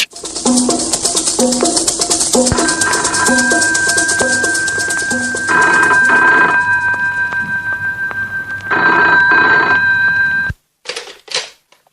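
An electronic telephone rings in repeated trilling bursts, loud and close, stopping suddenly before a few brief clicks.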